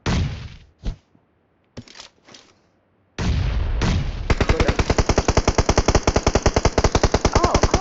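In a video game, a few scattered single shots ring out, then a long rapid burst of automatic gunfire rattles on in a fast, even rhythm, close and loud.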